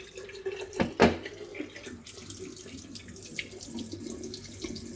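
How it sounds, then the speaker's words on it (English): Hot water runs steadily from a tap during repair of a Vokera combination boiler in Birmingham, a continuous close splashing flow with a couple of brief louder knocks near the start. "Okay, hot water."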